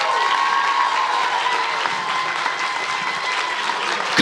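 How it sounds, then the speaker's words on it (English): Sustained, dense audience applause with cheering fills an end-of-season awards ceremony for the Lake Ridge Lancers 2024 sports program, steady and loud throughout. "let's give them all one more really big round of applause"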